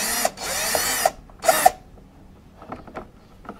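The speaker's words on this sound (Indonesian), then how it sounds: "tebuk lubang, lubang halus untuk kita pasang kamera tadi" Power drill boring small screw holes in a Honda car body for mounting a reverse camera, two close, loud bursts of whirring with brief stops, followed by faint handling clicks.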